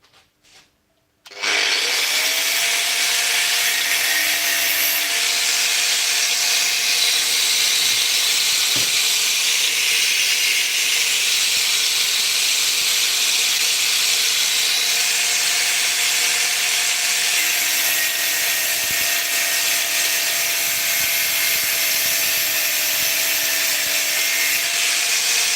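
A hot welded metal piece for an oil gun pilot is cut with a power tool, a loud sustained abrasive whine starting after a brief pause and running steadily to the end with a faint tonal hum.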